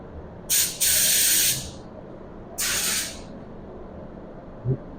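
Two bursts of hissing spray from a spray gun applying a full wet lacquer coat in a garage, the first longer, with a steady low background rumble between them.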